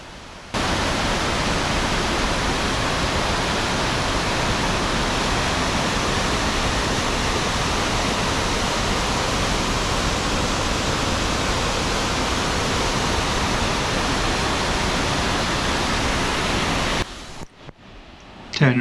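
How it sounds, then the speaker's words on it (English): Colwith Force, a waterfall about 15 metres high on the River Brathay, roars as a loud, steady broadband rush that fills the whole span, cutting off abruptly near the end. "Colwith Force Waterfall is about 15 metres in height and is situated on the River Brathey"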